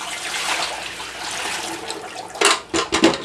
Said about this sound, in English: Then what we're gonna do is just dump all the water that we have in here.